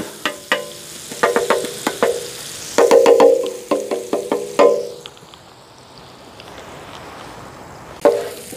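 Onions and bacon sizzling in a pan outdoors in a forest, with bursts of sharp scraping and stirring taps against the pan, then a quieter steady hiss, close by and without talk.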